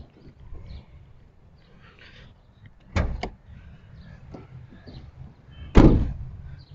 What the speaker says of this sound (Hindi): तो खोलते हैं पहले गाड़ी का बोनट।